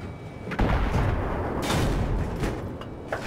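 Enemy tank cannon fire in Battlefield 3, heavy booming blasts and rumbling explosions layered over continuous battle noise, a few loud impacts standing out.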